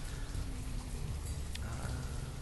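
Heavy rain pours steadily over a village in Banished, a thick continuous hiss of drops on surfaces, close and loud with a faint low rumble beneath, no voices.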